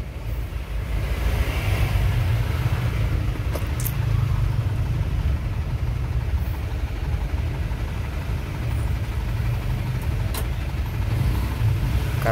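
Steady road traffic on a congested street busy with construction, with trucks carrying building materials and cars creeping past; a continuous low engine rumble and idling drone stays near and fairly loud throughout, with no one talking.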